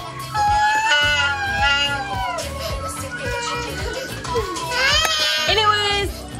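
A young boy cries and wails in a tantrum, rising and falling sobbing cries close by, with an adult voice speaking over and between them.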